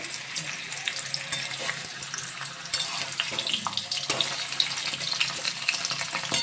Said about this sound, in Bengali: এর জন্য ভেজে নিচ্ছি আলুটা